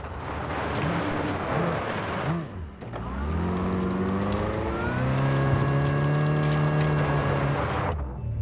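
A car in Cyberpunk 2077 is driven and brought to a stop, with a steady engine drone that rises in pitch as it revs and then cuts off abruptly at the end.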